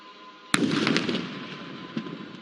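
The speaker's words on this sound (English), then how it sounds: "an opportunity strike on helipad at Tango 13" A single sharp blast from an opportunity strike on a helipad target at an Indian Army Day firepower demonstration, followed by a rolling rumble and a smaller second thump, heard at a distance with no talk.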